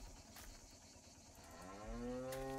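A cow moos in the horror video game Martha Is Dead, a single long, low, rising bellow that swells loud near the end over quiet ambient background.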